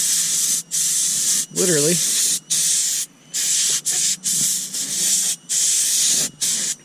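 Bursts of an air compressor blow out a car's interior vents, sharp hissing blasts cut by brief pauses, loud and close, with someone briefly talking between bursts.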